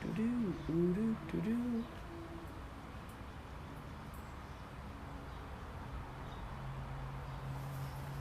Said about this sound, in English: you hear that? The doves.